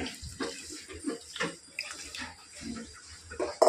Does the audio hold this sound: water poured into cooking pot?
yes